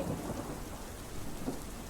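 Steady rain pours down on waterlogged Ahmedabad roads with a low rumble of thunder rolling underneath, fairly faint and continuous throughout.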